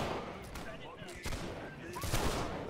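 Cannon and musket fire in the Holdfast battle game, distant booms and crackling shots rolling over continuous battlefield noise, with a voice talking faintly.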